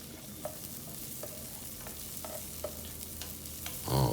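Onions and garlic sizzle steadily in hot oil, with scattered light clicks of a spoon stirring the pan and a louder scrape near the end.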